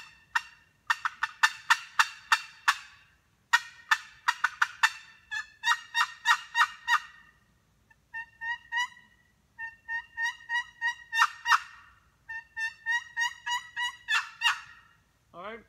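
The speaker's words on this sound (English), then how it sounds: "And the way I cluck on them or cut on them, I just slap the lid right straight down on the box." A long wooden box turkey call is worked by slapping its lid down, producing loud, close clucks and rapid cutting in rhythmic bursts of sharp, raspy yelps separated by brief pauses, with no talking.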